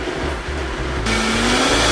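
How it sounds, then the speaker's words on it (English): A kitchen blender whirs loudly as it blends ice cream, its motor pitch jumping up partway through and then holding a steady, close, continuous drone with no talking. "I'm just gonna throw it in the blender really quick and see if that does anything."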